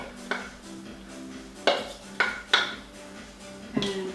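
Flour being folded into banana bread batter in a bowl, with a handful of clinking knocks of a utensil against the bowl's rim and side amid quiet scraping, close by and with no voices.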